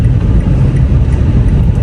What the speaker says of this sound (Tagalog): So ayan, traffic kahit Sabado.